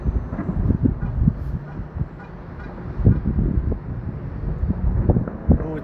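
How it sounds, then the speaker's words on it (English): Wind gusting outdoors at a fireworks evening, buffeting the microphone in uneven low rumbling bursts close up. "it's starting to get a little windier"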